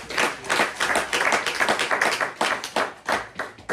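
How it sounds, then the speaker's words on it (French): Church congregation clapping in praise, a dense run of close handclaps with uneven pulses, loud and steady throughout with no talk over it. "Applaudissez le Seigneur."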